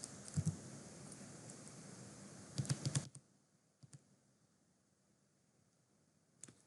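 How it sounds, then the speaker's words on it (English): Keystrokes on a computer keyboard come in a quick burst of close clicks, a short pause, then another cluster, followed by a few isolated taps against a quiet background. "here I'm just going to type"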